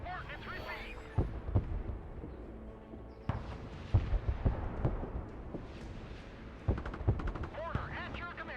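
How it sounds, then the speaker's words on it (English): Mortar rounds fire in the Broken Arrow military strategy game, several sharp thumping reports spaced irregularly across the stretch over a low battle rumble, with radio-style voice lines around them. "Mortar ready to fire."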